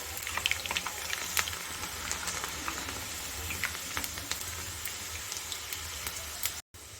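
Moong dal frying in hot oil, a continuous crackling sizzle with dense small pops and occasional stirring, close and steady throughout, cutting out briefly near the end.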